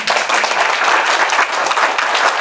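Audience at a congressional anniversary event honoring House Resolution 121 breaks into lively, close applause, a busy stream of many hands clapping at steady loudness throughout.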